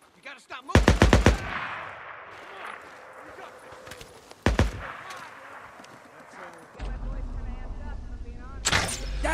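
Gunfire erupts in the Days Gone side mission, with loud bursts of automatic shots in rapid clusters, a single sharp shot midway, and another burst near the end, mixed with game voices and rumbling engine-like noise.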